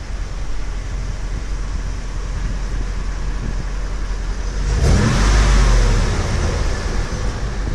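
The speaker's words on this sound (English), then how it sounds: "Just pure engine sound." A Brabus 6x6 Mercedes-Benz G-Wagon engine hums steadily, then revs up into a louder, deeper roar around the middle before easing back, heard close with no talking.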